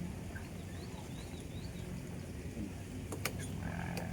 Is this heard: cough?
no